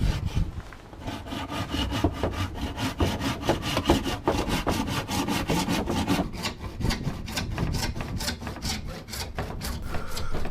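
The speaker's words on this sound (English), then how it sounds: "when I'm cutting with a hacksaw" Hacksaw cutting through composite cladding trim: steady, rapid back-and-forth rasping strokes, close and continuous throughout, with no talking.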